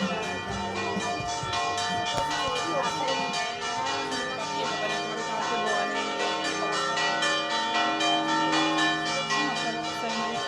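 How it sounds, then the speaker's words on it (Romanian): Church bells peal steadily in Polignano a Mare, a dense, loud, continuous ringing with overlapping tones that fills the whole stretch without pause. "Bate clopotul."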